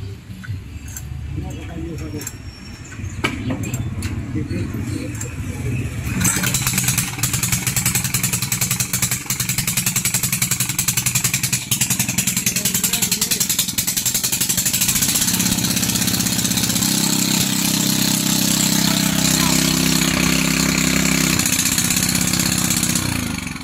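A newly bought small engine starts up and runs steadily for testing, its loud rough drone holding throughout while a voice talks over it.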